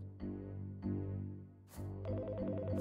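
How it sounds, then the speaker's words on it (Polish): An electronic telephone ringtone sounds in Priest Simulator, with repeated warbling rings in a clear rhythm over a low steady hum, loud and close. "W ogóle dzwoni telefon."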